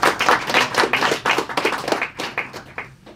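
A small audience at an online fireside briefing on decentralized identity gives a short round of close, distinct hand claps that gradually taper off.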